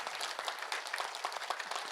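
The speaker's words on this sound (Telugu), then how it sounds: "గట్టిగా చప్పట్లతో అభినందించుకుందాం" Brief, steady applause from an audience at a district in-charge meeting, many hands clapping at a moderate distance with no talk over it.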